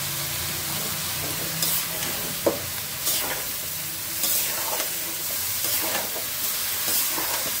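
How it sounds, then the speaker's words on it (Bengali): Vegetables are stir-fried in cooked spice paste, with a steady sizzle and repeated scraping stirs in the pan and an occasional sharper clink of the utensil. No one speaks. "মশলা কষানো শেষ হয়ে গেছে, সবজিটা দিয়ে দিচ্ছি।"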